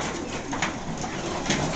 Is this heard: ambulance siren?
no